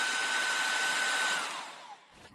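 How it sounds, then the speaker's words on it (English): Hairdryer blowing steadily at close range to dry cleaned battery contacts, a loud continuous whoosh with a faint whine that winds down near the end, no voices. "And thoroughly dry everything with a hairdryer."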